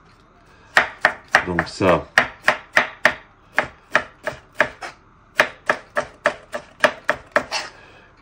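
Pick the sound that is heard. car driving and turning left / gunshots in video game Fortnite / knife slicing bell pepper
knife slicing bell pepper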